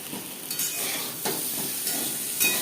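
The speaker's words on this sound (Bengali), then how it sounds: "স্বাদ মতো লবণ হলুদ দিয়ে আলু হালকা করে ভেজে নেব।" Potatoes with salt and turmeric frying in a pan, a steady close sizzle and hiss with a few brief stirring scrapes rising over it, no voices.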